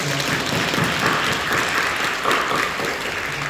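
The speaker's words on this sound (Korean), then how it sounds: "박수로 영리해 주시죠." A church congregation applauding during a worship service, a continuous, fairly loud patter of many hands clapping together with no pause throughout.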